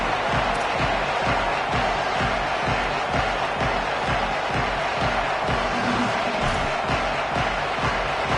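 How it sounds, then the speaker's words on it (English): Stadium crowd in a college football video game at a Cal versus Texas A&M kickoff, a constant dense roar of cheering fans with rhythmic pulsing, carrying on with no break. "The crowd eager, and off we go."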